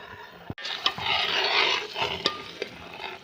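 Gram flour mixed in ghee being stirred into hot sugar syrup for Mysore pak, a close, continuous scraping and bubbling sizzle with a brief pause near the start.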